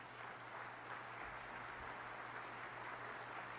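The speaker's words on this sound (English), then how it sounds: "give our employees a huge round of applause" A large audience applauds city employees at Atlanta's State of the City Address: a dense, continuous wash of many hands clapping, steady and fairly distant, with no speech.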